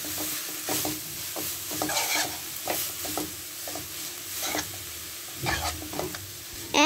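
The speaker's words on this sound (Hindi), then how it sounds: "घी गर्म हो गया है तो हम गाजर का कद्दूकस डालेंगे। आप इसको अच्छे से फ्राई करेंगे।" Grated carrot frying in hot ghee in a kadhai for gajar halwa, soft continuous sizzling broken by repeated close scraping stirs at an uneven rhythm.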